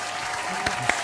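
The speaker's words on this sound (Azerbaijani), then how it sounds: "Alqışlar, alqışlar." A studio audience applauds in a steady, dense wash of clapping for a comedy talk-show guest, with a couple of louder claps standing out near the end.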